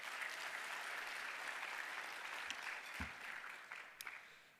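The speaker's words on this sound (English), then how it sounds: "Please, a round of applause." A breakfast program audience gives a round of applause, soft and somewhat distant, a continuous patter of many hands with a few sharper knocks near the end.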